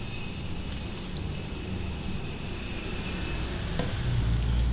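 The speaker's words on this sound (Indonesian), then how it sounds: "kita goreng 2 dulu ya, supaya nggak pada nempel" Yeast dough pieces fry in hot oil with a steady, dense sizzle throughout, growing slightly louder toward the end, with no talking.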